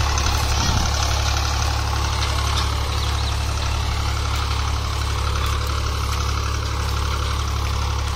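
A Swaraj 735 FE tractor engine pulling a cultivator runs at about 1200–1300 rpm, a loud, close, steady diesel drone with a low knocking throb and no talking.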